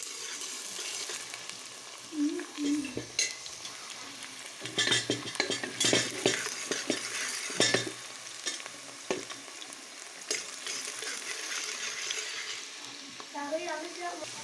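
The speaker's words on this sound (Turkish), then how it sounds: "güzelce pembeleşene kadar kavruluyor" Food roasts in a pan until it turns pinkish, with a steady close sizzle under scraping and stirring strokes and occasional clinks, without any speech.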